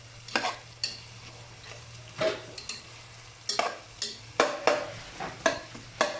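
Ginger frying in oil in a pan for a chicken roast korma, a soft sizzle under a series of sharp scraping stirs, close and fairly quiet.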